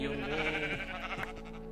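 A Minecraft sheep gives a steady, wavering bleat from the video game, heard close and sustained over a constant layer of game sound.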